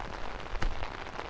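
Heavy rain pours down steadily during a golf round, a dense hiss of drops striking surfaces with one sharper splash near the middle.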